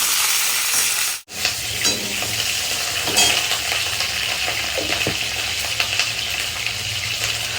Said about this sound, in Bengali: পটলগুলোকে ভালো করে ভাজবো।